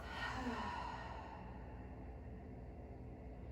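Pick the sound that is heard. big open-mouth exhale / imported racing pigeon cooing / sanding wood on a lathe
big open-mouth exhale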